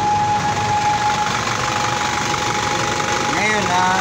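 Rebuilt engine running after its cylinder liners were replaced, a steady, loud mechanical hum with a faint rapid knock close by, a voice briefly over it near the end.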